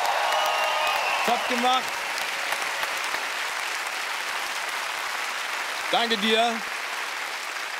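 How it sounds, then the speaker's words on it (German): Studio audience applause on a German TV game show, a steady wash of clapping throughout with a voice briefly speaking over it twice. "Riesen Applaus für Christoph nochmal"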